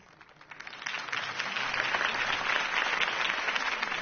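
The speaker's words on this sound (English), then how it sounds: "If only Mr. Wayne, my campaign's largest backer, could have heard that applause" A crowd applauds after Harvey Dent's campaign speech in Gotham, the clapping swelling from a few hands into a dense, sustained ovation.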